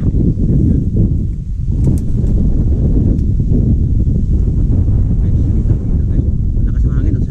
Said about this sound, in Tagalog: Lakas ng hangin, ang sarap. Malamig na hangin.